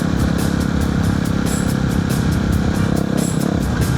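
A Yamaha WR250R dual-sport motorcycle with an FMF aftermarket exhaust runs close by, its loud, steady engine note revving and burbling with a rapid pulsing rhythm throughout.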